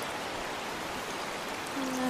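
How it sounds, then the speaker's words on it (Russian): Artificial streams trickling at a beach children's zone near a waterfall, heard as a steady, even wash of running water with a faint tonal hum entering near the end. "Такие ручейки искусственные сделаны."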